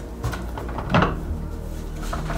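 A door is tried but stays shut: a single wooden knock and rattle lands near the middle, with muffled handling noise before and after.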